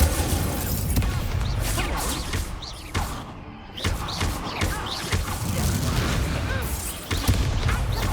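Incendio fire spells are cast repeatedly in the Hogwarts Legacy video game, each one a loud, booming burst of flame that follows close on the last, with a brief lull partway through.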